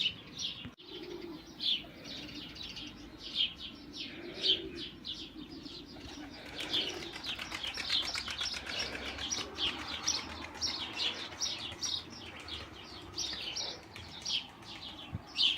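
A young smoky-coloured pigeon coos repeatedly at close range, with soft chirps and occasional wing flutters around it and no talk.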